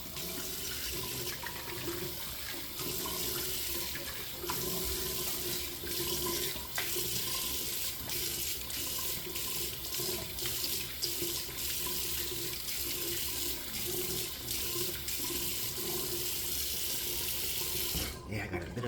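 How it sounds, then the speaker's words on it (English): Water pours steadily from a tap into a sink for a long stretch, a constant splashing rush close by with small clattering shifts. "let me go ahead and rinse this off with cold water"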